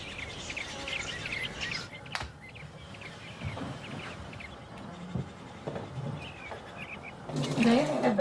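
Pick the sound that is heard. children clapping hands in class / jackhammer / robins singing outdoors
robins singing outdoors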